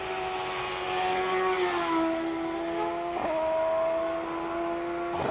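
A Gould hillclimb race car pulls away gently on a hillclimb course, its engine holding a high, steady, strongly tonal whine. The pitch drops and then climbs again through gear changes, heard up close and continuously.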